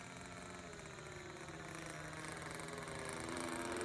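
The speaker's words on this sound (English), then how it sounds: "once those engines are dialed in and tuned good, they run really nice" A tuned model airplane engine from the Old School Model Works Fifty Six runs in flight, a faint, distant, steady buzzing drone that slowly grows louder.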